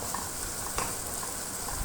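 Ground spices and ginger-garlic paste frying in hot oil, a steady close sizzle with soft crackle and a faint stir scrape, no talking.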